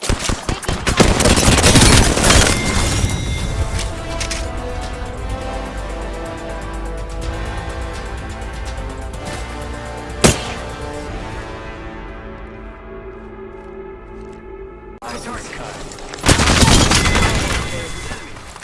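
Gunfire in the battle royale video game Apex Legends, with dense bursts of automatic fire at the start, a single sharp shot near the middle, and another burst near the end over a steady game soundscape.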